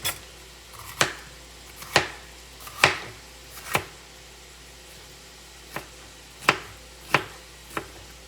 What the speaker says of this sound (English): I'm going to slice it up.